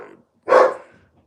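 A dog gives one loud, close bark, short and sharp, with faint speech just before it.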